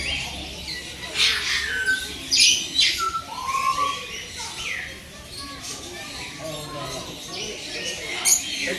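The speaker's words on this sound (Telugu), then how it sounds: "అది పీచ్ ఫేస్డ్ లవ్ బర్డ్" Peach-faced lovebirds squawk and chirp in a bird enclosure at a zoo in Hyderabad, with repeated sharp calls close by over a busy aviary background while people talk nearby.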